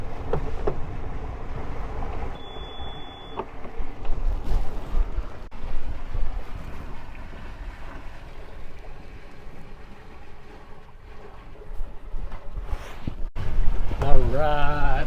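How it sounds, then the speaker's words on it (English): Wind gusts buffet the microphone aboard a sailboat under sail with its engine switched off, a continuous rushing blow with water and hull sounds, a brief beep, and a voice speaking near the end. "Okay, we are sailing. Turn this engine off."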